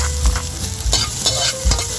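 Garlic sizzles and crackles in hot oil in a pan, a steady close frying hiss broken by a few stirring scrapes, with no voices.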